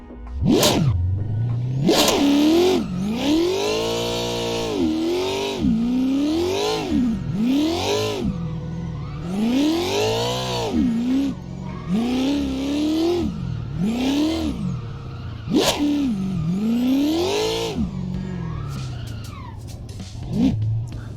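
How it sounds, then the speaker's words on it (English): Car drifting laps in Assetto Corsa, the racing game: an engine revs up and down in repeated rising sweeps as throttle is worked through linked turns, with bursts of tire squeal between, loud and continuous with no talk. "Let me just go ahead and send a couple of laps around this, try and connect a couple of these turns together"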